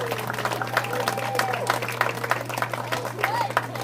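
Crowd clapping and scattered cheers for seniors on a high school varsity softball senior night at a home game, an outdoor round of applause mixed with voices over a steady low hum.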